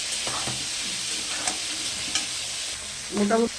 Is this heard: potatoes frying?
yes